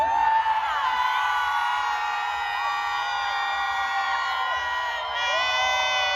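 An audience at a concert, standing zone, cheering and screaming loudly and continuously with many high voices, a steady sustained roar throughout.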